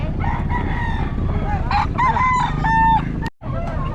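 A rooster crows loudly nearby, with other hens clucking around it in a busy poultry market in Bocaue, then a brief cut to near silence.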